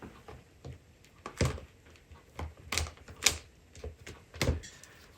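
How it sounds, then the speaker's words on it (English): Cardstock is cranked through a winter-themed embossing folder in a die-cutting machine, giving a series of close, sharp clicks and clunks at irregular intervals, with no speech. "And now I'm going to emboss it with the wintry embossing folder."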